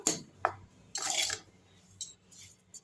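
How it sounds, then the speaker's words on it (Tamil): Samba wheat being dry-roasted in a kadai pan, with scattered metallic scrapes and a longer burst of stirring and rattling grains against the pan, then a few lighter clinks, fairly close and unaccompanied by speech. "ஒரு கடாயில் நல்லா வறுத்துடலாம்"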